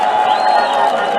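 A large outdoor political rally crowd in Bungoma applauds and cheers at once, a dense, loud wash of clapping and voices that stays steady throughout.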